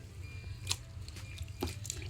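Old wigs being washed in dirty water indoors, producing quiet, low-level sloshing with a few soft splashes and drips over a steady faint background.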